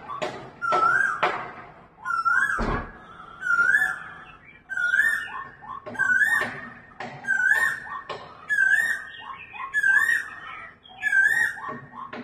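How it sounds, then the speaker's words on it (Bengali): An Asian koel calls repeatedly at sunset in spring, a clear rising whistled note repeated about every one and a half seconds in a steady series of eight or nine calls, fairly near, alone. "দেখুন কোকিলও ডাকছে।"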